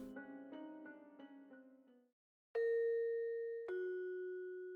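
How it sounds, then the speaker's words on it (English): A two-tone ding-dong doorbell in the video game Saihate Station rings twice in a row, each tone loud, clear and sustained, after a soft tinkling melody that fades into a short silence. "The sound of a doorbell."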